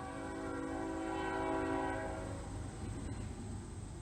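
A train sounds its horn in a loud, sustained blast over a steady rail rumble, which carries on after the horn fades.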